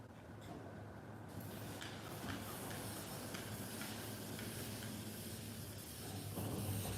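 Steady, loud hiss of a spray gun running continuously while spraying a car roof, a broad airy rush with a low hum beneath, no voices.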